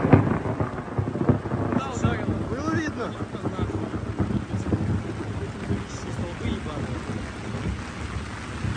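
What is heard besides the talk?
thunder and rain during a thunderstorm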